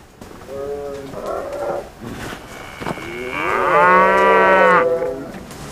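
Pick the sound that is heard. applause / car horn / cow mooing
cow mooing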